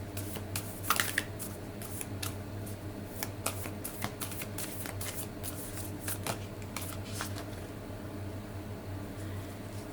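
Spirit Animal Oracle cards being shuffled close up, with quiet, steady riffling and soft papery snaps over a faint background hum.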